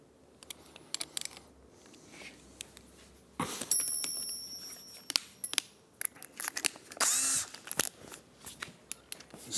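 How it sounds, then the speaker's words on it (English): A power drill with a number 9 bit runs in two short, whining bursts while fitting a retro handlebar kit to a 2024 Triumph Speed Twin 1200, with scattered clicks and handling noises around them, close and fairly loud. "Start off with a number 9 drill bit."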